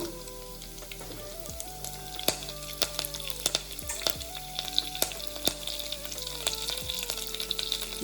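Urad dal, dried red chillies and curry leaves fry in hot oil, a steady close sizzle with scattered crackles and pops, heard alone.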